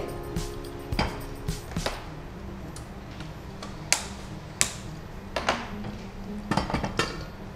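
A frying pan handled in a home kitchen makes scattered metallic clinks and knocks, sharp and close, over a steady low background hum.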